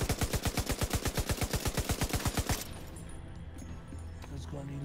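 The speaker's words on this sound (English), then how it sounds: "Hey, stop shooting at my guy." Rapid automatic gunfire in The Division 2 video game, a fast, evenly spaced burst of about two and a half seconds that cuts off into quieter ambient game noise with faint background sounds.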